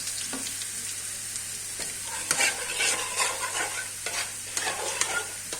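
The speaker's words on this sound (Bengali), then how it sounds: "আমি আর একটু নেড়ে দিচ্ছি, যেহেতু আলুটাও ভাজা হয়ে গিয়েছে, পেঁয়াজটা একটু বেরেস্তা টাইপের হয়ে গেছে।" Fried potatoes and onions stirred in a pan: a soft continuous sizzle with repeated scraping strokes of the spatula, close and fairly quiet, no voices.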